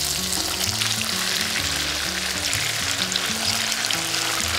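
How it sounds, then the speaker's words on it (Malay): Tofu fries in hot oil until crispy on the outside, a loud steady sizzle with constant crackling spatter, alone over low background music. "Goreng tauhu sampai masak, sampai garing bahagian luar."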